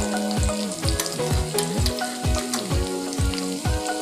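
A cabbage and moong dal dish frying in a pan as turmeric powder is stirred in, with a loud close sizzle and rhythmic scraping strokes about twice a second.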